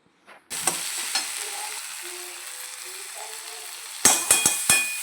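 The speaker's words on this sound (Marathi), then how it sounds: "सगळं मिक्सर आहे ते आपल्याला भाजून घ्यायचं आहे बघू शकता इथे तेलामध्ये व्यवस्थित असं" Tomatoes and green peas fry in oil with a soft, continuous sizzle, broken by a few sharp clinks and scrapes of a spoon stirring the pan near the end.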